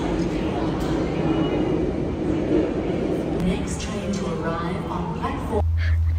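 Interior of a moving train in Sydney: a constant low rumble and rattle fills the carriage while a person talks over it, ending with a low steady hum.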